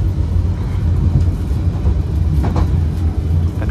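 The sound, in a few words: KA Joglosemarkerto passenger train running on rails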